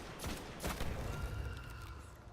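Explosions from the video game Destiny (The Dark Below), a dense, sustained burst of rumbling blasts and crackling detonations at moderate loudness, several overlapping hits with no speech.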